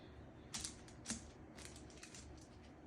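Kitchen scissors snipping through refrigerated biscuit dough, two quiet crisp cuts close by over a faint steady background hum, with softer fiddling sounds after.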